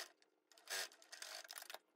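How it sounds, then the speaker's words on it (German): Faint close whirring and rapid ticking of a sewing machine stitching a coat shoulder seam, running in uneven short bursts with no talking. "Also wir nähen jetzt hier die Schulternaht bis zum Punkt hier vorne und verriegeln."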